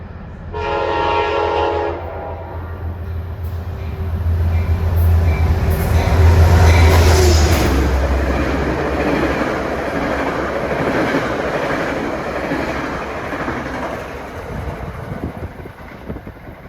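A Danbury-bound New Haven Line train passes on track 4 with a clear horn blast at the start, then a loud, sustained rumble and rail clatter that swells midway and slowly fades.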